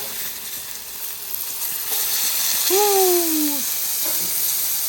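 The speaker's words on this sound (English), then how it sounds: "we add a little water to the broccoli for a little steam action" Broccoli with water and butter, domed on a 30-inch Steelfire griddle, steams and sizzles with a steady close hiss while a voice briefly exclaims.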